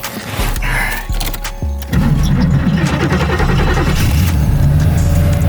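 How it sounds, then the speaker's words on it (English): A 3rd gen Camaro engine cranks in short bursts, catches and fires, then settles into a loud, steady run with a light rev, close by and without talk. "Let's see if we can get this car running."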